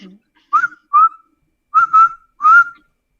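A person whistles a few short, clear notes, imitating whistles heard in the woods during Irish Bigfoot research: four separate rising and falling tones, close and loud, alone in a quiet room.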